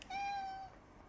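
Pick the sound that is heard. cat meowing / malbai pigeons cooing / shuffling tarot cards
cat meowing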